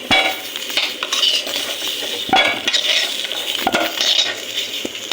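Fried potatoes are stirred in a metal pan: a loud, close scraping and clinking of a utensil against the pan comes in repeated strokes over a low oily sizzle.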